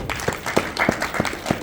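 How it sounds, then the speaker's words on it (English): Scattered rhythmic clapping from a conference audience applauding a panel, a handful of distinct claps spaced about three per second, fairly close and moderate in volume. "Would you give this great panel again a round of applause?"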